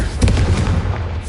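The Confringo blasting spell explodes in Hogwarts Legacy, a single loud close boom that rolls out into a short rumbling decay.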